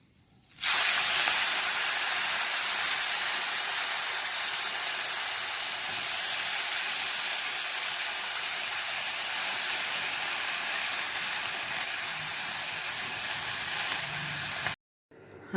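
Washed fenugreek leaves drop into hot oil spiced with asafoetida, turmeric and chili, setting off a loud, steady sizzle that starts abruptly and holds almost unchanged before cutting off near the end.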